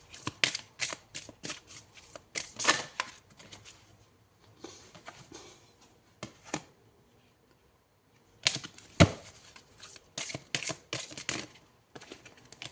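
Tarot cards are shuffled and drawn close by. Quick papery riffles and flicks come in bursts, with quiet gaps between them.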